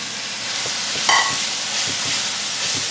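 Tomato is added to a hot pan of ginger garlic paste for chicken curry, a steady close sizzle and hiss with a brief louder splash of frying as it hits the oil, plus light stirring taps.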